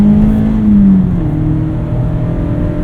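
A 2017 or 2019 Mazda MX-5 Miata engine drones loud and steady from inside the cabin, pitch sagging slightly after the first second, then holding a constant high-revving tone with no talking.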